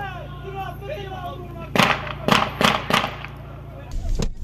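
Gunfire from an armed ambush on a road in Diyarbakır, where rivals stopped two family cars returning from a wedding: four or five sharp, loud shots in quick succession, after raised voices and a low background hum.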